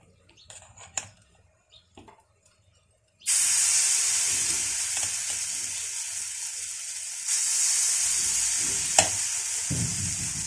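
Chilla batter meets a hot pan and bursts into a loud, steady sizzle that carries on, briefly swelling, after a few quiet clinks and handling noises before the pour.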